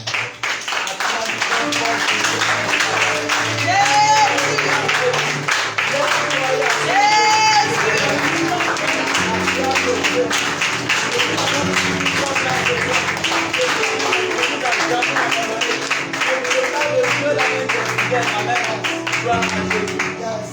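Church congregation applauding and cheering in praise of Jesus during a worship service, loud sustained clapping and crowd voices over twenty seconds, layered with singing, a voice calling out, and amplified worship music.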